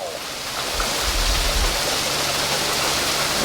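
Heavy rain pours down in a dense, steady hiss that fills the space close by, unbroken and even throughout, with a faint low rumble underneath and no voices.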